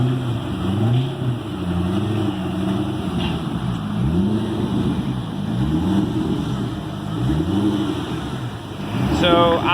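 Car engine running on a dyno, a close, loud, steady drone with repeated rising and falling pitch sweeps as it revs, with voices talking over it.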